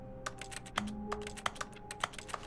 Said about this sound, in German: Ich drücke auf die Maustaste, da kommen so, glaube ich, Geräusche. Tastaturgeräusche.